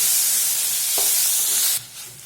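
Tomato pieces sizzle and fry in a pan for potato curry, a steady loud hiss with a brief stir clatter near the middle, then the sizzle drops suddenly quieter.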